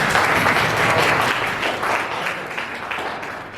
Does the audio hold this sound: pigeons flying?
no